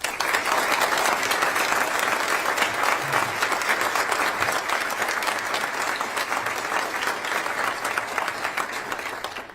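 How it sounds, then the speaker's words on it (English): Audience applause at a military retirement ceremony for a brigadier general, dense sustained clapping from a large crowd, loud and even, tapering slightly at the end. "a round of applause for Brigadier General Higer's family and special guests"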